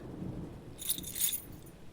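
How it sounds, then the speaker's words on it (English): Keys jangle and clink briefly as they are tossed, a short bright metallic rattle in two bursts over a low background hum, fairly close and moderately loud. "Throw me the keys"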